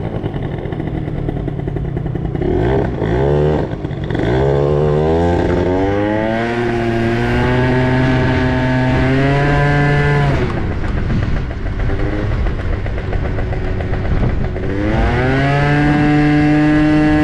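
Drag-racing scooter revving hard and accelerating on a city street, loud buzzing two-stroke engine climbing in pitch through repeated rising runs, dropping briefly between pulls, close and alone with no talk.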